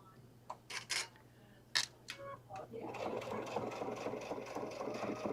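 Sewing machine stitching a thick, stiff leather bag: a few faint clicks and taps at first, then a steady, quiet mechanical whir of stitching running continuously.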